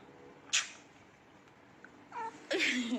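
A domestic house cat lets out a short sharp sound, then after a quiet pause two drawn-out, complaining meows, the last one loud and wailing, heard close by in a quiet room.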